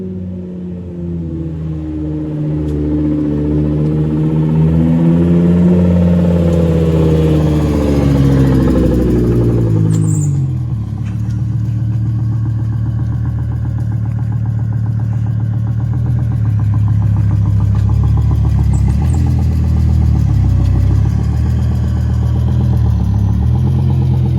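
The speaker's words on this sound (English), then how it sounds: "So here's the clips of the car driving around. It still has no exhaust on it." A car with no exhaust fitted, its engine loud and raw throughout as it drives around, revving and shifting pitch early, then settling into a steady, deep drone.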